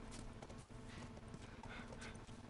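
A horse in The Last of Us Remastered clip-clops in a steady, rhythmic hoof pattern, close and fairly loud, with a brief whinny-like accent over a low rumbling game background.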